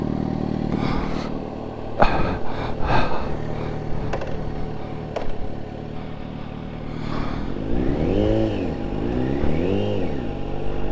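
Yamaha FZ1N motorcycle with an aftermarket exhaust pipe revving, several sharp blips followed by rising and falling acceleration sweeps as it rides past, moderately loud and close, with no talk.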